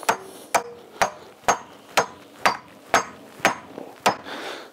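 A 12-ounce hammer drives a framing nail in roughly nine sharp, evenly spaced strikes, each a bright metallic crack with a quick decay, close up and loud with no talking.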